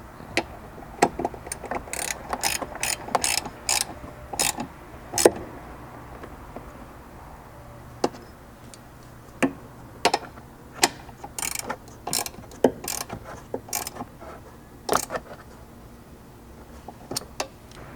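A ratchet tightens hardware on an overhead MOLLE panel inside a Ford Bronco, giving bursts of fast metallic clicking pawl ticks with pauses between strokes, close and fairly loud.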